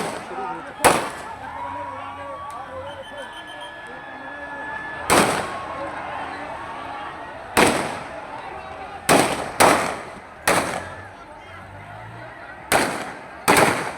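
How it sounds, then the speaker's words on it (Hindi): Police firing shots into the air during a tense street scene, sharp loud cracks arriving singly and in quick pairs about ten times, with crowd noise and talking beneath. "वहां पर हवाई फायरिंग की जा रही है।"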